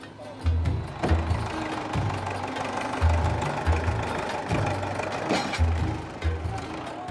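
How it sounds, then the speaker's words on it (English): Tractor engine running steadily nearby, a low chugging rumble with regular knocking pulses and a rough, noisy mechanical wash over it, continuous throughout. "We get hooked up to the tractor"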